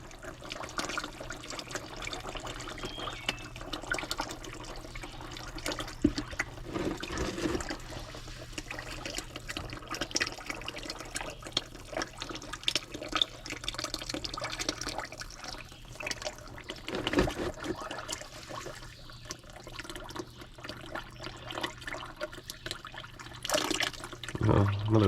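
Water draining out of the transmission of a 1957 Autocar truck, a continuous trickle and splashing flow with intermittent louder gushes and dribbles, close by and with no talk.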